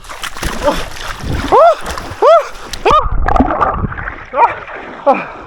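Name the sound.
people plunging into an icy river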